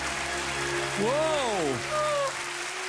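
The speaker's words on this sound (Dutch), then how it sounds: "Een staande ovatie." A theatre audience rises for a standing ovation after a dance performance on the It Takes 2 show, steady crowd applause running throughout while a single voice exclaims over it.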